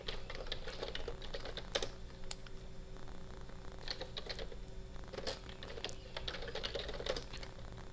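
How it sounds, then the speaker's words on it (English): Steady typing on a computer keyboard, with quick bursts of key taps and occasional louder strokes, close by and fairly quiet over a constant low hum, with no talking. "I'm gonna type that all out."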